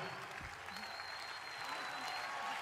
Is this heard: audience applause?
yes